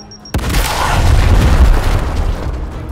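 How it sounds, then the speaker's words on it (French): A fragmentation grenade in Gears Tactics goes off with a sudden loud boom that rolls into a deep, sustained rumble lasting a couple of seconds. "Balancez-leur une grenade à fragmentation!"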